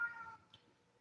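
A pet cat lets out a single short meow, faint and somewhat distant, followed by near silence.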